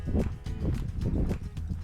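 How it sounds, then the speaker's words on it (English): Sheep bleat in rhythm on open, grazed hill farmland on Slieve Croob, loud and close, with a low rumble of wind underneath. "sheep,"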